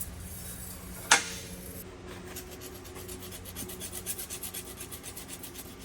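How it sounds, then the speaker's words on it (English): Burrs are being filed off a metal clamp during a clutch line install, heard as a soft, steady rhythmic rasping of strokes close by. A sharp click lands early, and no one speaks. "So just cleaning up the burrs from the clamp."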